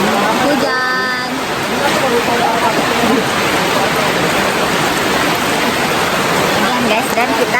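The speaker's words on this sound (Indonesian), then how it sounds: "Hujan." Heavy rain pours steadily on a mountain trail at Bukit Anak Dara during a stormy hike, a loud dense hiss filling the whole clip, with a brief tonal squeal near the start and voices faintly mixed in.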